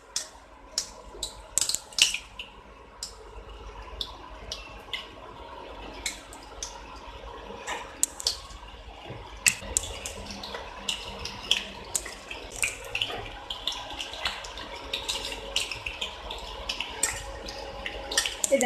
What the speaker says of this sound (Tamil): இப்போ இதில் வந்துட்டு நம்ம மேரினேட் பண்ணி வச்சுருக்க சிக்கனை 1 by 1 இப்படி போட்டுங்க